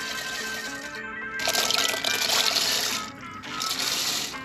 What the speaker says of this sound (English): And we've got to add our water.